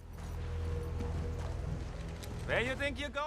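Horse hooves clip-clop briefly beneath a narrator's voice over a low background hum, with a few distinct hoofbeats before the talking takes over.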